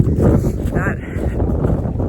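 Strong, cold wind on the Appalachian Trail in North Carolina buffeting the microphone in low, rumbling gusts, with a voice speaking briefly under the roar.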